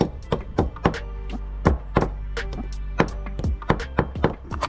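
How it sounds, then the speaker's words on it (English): A hammer taps plastic wall plugs into drilled holes in a wall, giving a quick series of sharp, close knocks in short uneven clusters. "And tap them in with a hammer"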